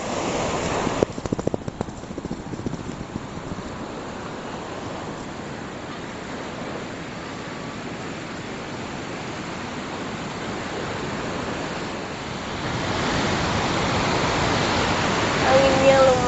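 Large waves break at a beach during a high tide near the full moon, a constant broad wash of surf with wind, growing slightly louder toward the end.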